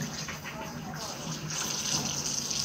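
Tap water running over a gutted pompano fish during a rinse, a steady close gushing splash that grows slightly louder partway through.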